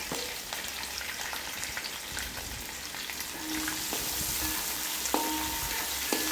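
Onions sizzle steadily in a hot pan, with a few light clinks from stirring.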